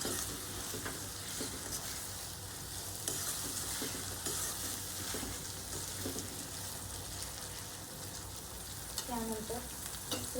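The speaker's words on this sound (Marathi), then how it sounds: "3 टोमॅटो मीडियम साइजचे चिरून ठेवले होते एकदम बारीक, ते मी ऍड करते। आणि याला पण मिक्स करून घ्या।" Finely chopped medium tomatoes fry with the vegetable mix for pav bhaji, making a constant soft crackling sizzle with occasional spoon stirs throughout.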